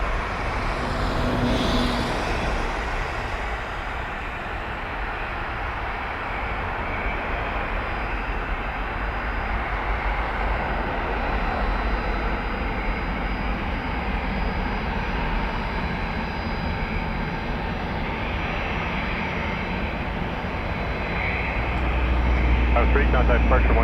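The Canadian Forces One jet carrying the Prime Minister roars steadily at Toronto Pearson airport, a loud, broad engine rumble that holds for the whole stretch and swells near the end.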